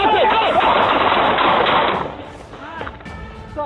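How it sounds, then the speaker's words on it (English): Gunshots fired by police during a confrontation with a suspect, a dense loud burst of rapid shots in the first two seconds, then fainter noise with shouting voices. "Shots fired."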